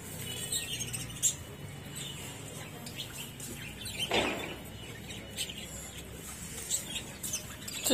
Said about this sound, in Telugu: లవ్ బర్డ్స్ ని కూడా పెంచుతున్నాడు.